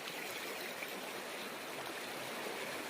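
Water rushing steadily along a stream swollen by several days of rain near a village, a dense continuous wash with no pauses, fairly close and alone without voices.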